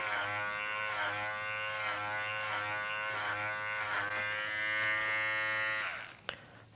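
Kenchi Flash dog clipper buzzing steadily and close while grooming a Goldendoodle's thick coat, with a few brief pitch dips as it passes through the fur, then cutting off near the end.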